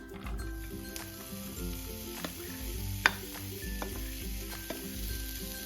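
Sliced onions fry in hot oil in a pan for a quiche filling, a steady close sizzle with occasional stirring scrapes and a sharp clack of a utensil near the middle.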